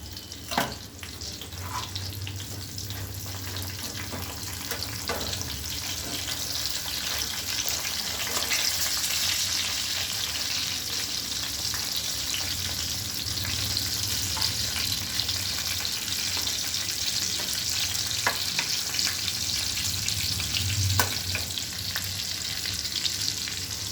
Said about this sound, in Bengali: তো আমি এবার ভেজে নিচ্ছি সুন্দর করে